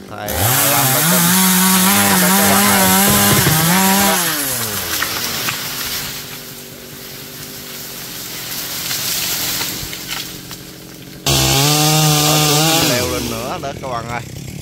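A G375 chainsaw cuts a brittle golden-flower acacia tree near a house, its engine revving loud and steady, easing to a lower, rougher idle mid-cut and then surging back to full throttle, with voices faintly underneath.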